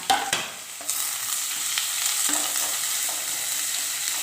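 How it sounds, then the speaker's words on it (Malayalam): Sliced onion, green chillies and curry leaves sauté in a pan with a bright, continuous sizzling hiss after an initial clatter of ingredients going in, close and steady. "ഒരു വലിയ സവാ സവോള അരിഞ്ഞെടുത്തതാണ് അതും ഒരു മൂന്ന് പച്ചമുളക് കയറിയതും ഒരു രണ്ട് കറിവേപ്പിലയും കൂടെ ചേർത്ത് ഒന്ന് മൂപ്പിച്ചെടുക്കണം"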